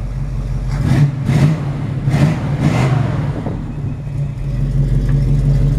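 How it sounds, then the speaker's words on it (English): Mild-cammed engine of a 1973 Camaro with Flowmaster exhaust, still cold, idling steadily with a low rumble and blipped several times in quick revs before settling back to idle. "I can try and rev it a little."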